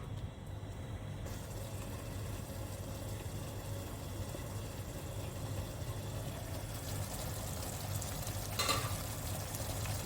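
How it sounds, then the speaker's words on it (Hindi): Taro pieces frying in ghee with cardamom for a Rajasthani-style dish, a steady, dense sizzle that holds even throughout, with a brief brighter crackle near the end and no talking. "ये थोड़ा सा घी ऊपर आ लेना, फिर मैं इसमें अरबी डालती हूँ।"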